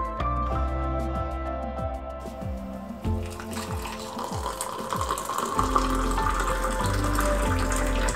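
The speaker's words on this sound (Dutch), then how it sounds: "Ik vind het geluid van thee inschenken echt het lekkerste wat er is." Tea poured from a pot into a cup, a continuous close trickle and splash with rising tones as the cup fills, steady and fairly loud throughout.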